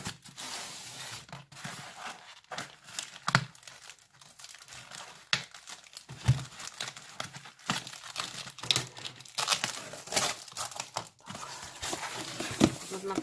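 A heavy parcel is opened up close, with irregular bursts of crinkling and rustling packaging and a few tearing and handling noises.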